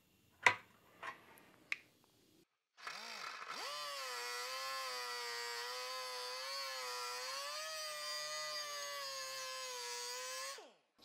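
A power tool, likely a cutoff or grinder, whines steadily for about eight seconds while trimming excess sheet metal from custom engine tin. A few sharp clicks and taps come first.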